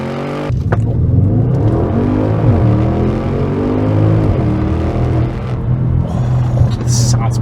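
An Audi S7 with a tuned exhaust revs hard and close, its deep engine note swelling and dipping through repeated throttle blips in a steady, aggressive roar with no gaps.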